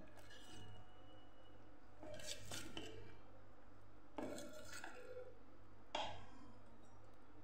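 Gram flour and semolina batter being stirred and mixed in a bowl, with a few distinct bursts of scraping and clinking from the spoon against the bowl over a steady low kitchen hum.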